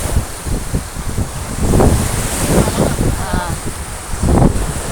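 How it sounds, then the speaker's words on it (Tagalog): Strong gusts of wind buffet the microphone outdoors at Bang Saen beach, Thailand, a steady roar with surging bursts, and a soft wash of surf underneath. "hangin naman dito, oh. So, hangin, mahangin, mahangin."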